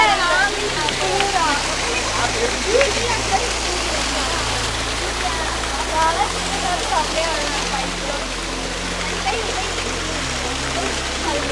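Steady rushing of Kiliyur Falls in Yercaud, a broad continuous wash of falling water with a voice talking over it.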